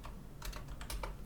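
Typing on a computer keyboard, a short run of quick, close, fairly quiet key clicks in an irregular rhythm, heard alone without voices.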